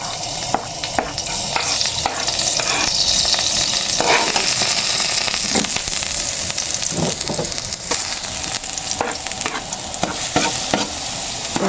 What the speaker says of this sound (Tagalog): po muna pong igigisa yung ating puso ng saging